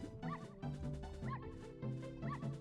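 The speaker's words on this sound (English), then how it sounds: "And we have a barking dog as the low health sound." Ocarina of Time low-health warning replaced by a barking dog: short repeated barks and yips in a quick rhythmic loop, about four bursts, fairly clear over quiet game audio.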